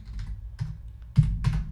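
Computer keys and mouse clicks as values are entered. Four or five separate clicks and taps come at uneven intervals, close and fairly quiet, with no talking.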